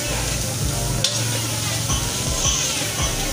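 Santol with a spoonful of shrimp paste cooking in a dry pan with no oil, giving a steady, close, continuous sizzle with occasional stirring scrapes and a voice speaking under the frying noise.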